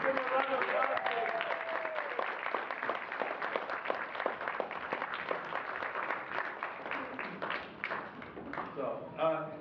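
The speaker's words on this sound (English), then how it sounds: "So let's give them a round of applause, please." Applause for the cast of a student play at a university performing arts department, a mid-sized audience clapping in a quick, uneven patter that holds steady, with voices talking over it near the end.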